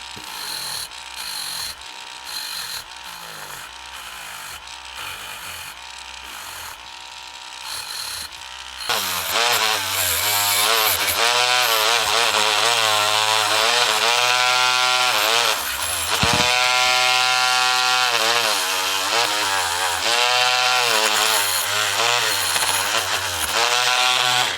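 A power tool polishes the chassis of a 1976 Redline American Tipper Hot Wheels die-cast car, a loud whining motor that pulses in short bursts, then runs continuously with shifting pitch as it bears on the metal.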